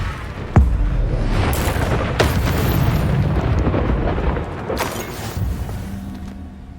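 Reducto blasting spell going off in the Hogwarts Legacy video game: a sharp boom opens, then a rumbling, crackling blast roars on with further bursts, loud and close, with no talk.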